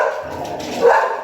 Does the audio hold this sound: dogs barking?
yes